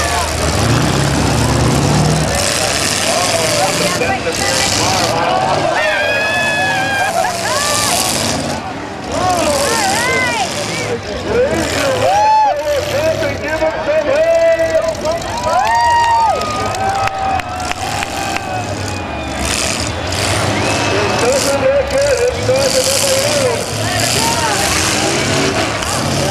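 Demolition derby cars at the Chino Challenge, heat 3 in 2012, revving and roaring continuously and loud up close, with crowd noise and excited people talking over the engines throughout.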